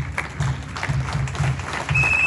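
A church congregation claps together, a steady, moderately loud patter of many hands spread over a couple of seconds, with faint voices mixed in.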